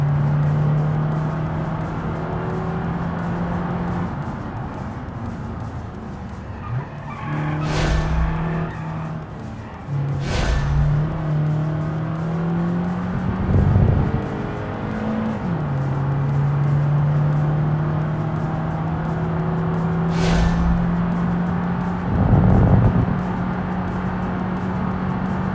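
Race car engine in BeamNG held at full throttle, a loud sustained droning note that shifts pitch with gear changes and revs, punctuated by brief bursts and tire noise, with no talking.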